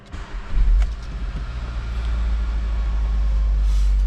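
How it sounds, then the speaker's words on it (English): An Audi S3 Sportback engine cranks and catches, then settles into a steady low idle that holds close and even to the end. "get the car started, demonstrate that it's starts and idles as it should with no warning lights"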